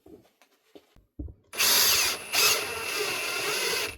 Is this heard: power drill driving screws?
yes